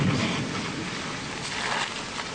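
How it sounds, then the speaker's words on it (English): Strong wind gusts buffet the microphone during a tornado chase near Roanoke, a loud continuous roaring rush with no talk. "The wind's definitely blowing east."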